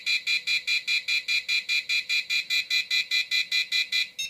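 Enuflex bedwetting alarm sounding its third signal: a loud, steady run of about twenty evenly spaced electronic beeps, each a short high-pitched tone with a brief gap, close and alone with no talking.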